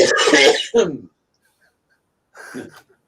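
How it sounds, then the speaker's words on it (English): A harsh cough from a persistent months-long cough bursts out twice in quick succession, followed by a short pause and a softer third cough-like sound. "I've had this cough since November with a terrible cough"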